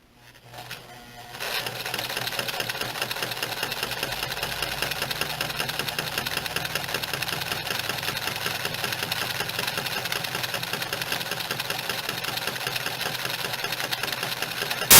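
A Necchi Supernova sewing machine stitches a buttonhole, running at a steady fast rhythmic whir after a short start-up, close and continuous with no talk.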